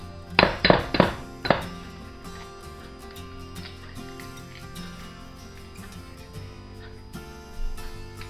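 Eggs are cracked against a bowl rim, four sharp close knocks in quick succession, followed by quieter shell and dish clinks as they are separated.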